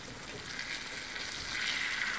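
Hilsa fish in mustard sauce cooking over medium heat in a pan gives a steady, even sizzle and bubbling throughout, close and moderately loud with no voices.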